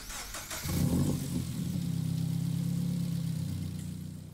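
Toyota GR86 '21 engine in Gran Turismo Sport, a short start-up burst settling into a steady mid-pitched idle hum that holds and then gently fades, heard alone.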